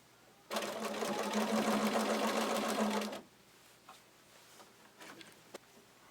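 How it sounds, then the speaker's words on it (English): Sewing machine stitching fabric for a ruffle blanket, a steady loud whir of fast stitching for about three seconds that stops abruptly, followed by a few faint clicks and handling noises. "And continue sewing."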